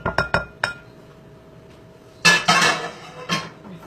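Sweet potato farro scraped from a bowl back into a pan, giving a few sharp clinks of utensil on dish at the start, then a quiet gap and a louder burst of scraping and clattering near the end, close up.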